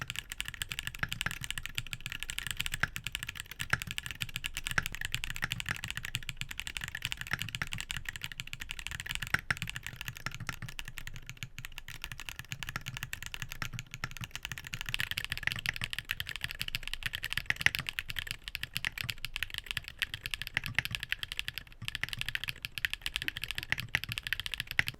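Steady typing on TTC Hall effect mechanical keyboard switches in back-to-back tests, a long unbroken stream of close, crisp key clacks at moderate volume, alone without speech.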